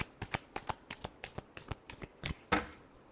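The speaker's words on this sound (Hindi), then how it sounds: "last shuffle" Playing cards shuffled for a tarot reading, a quick run of about ten crisp riffling bursts in steady rhythm, close and clear, ending in a slightly louder final riffle.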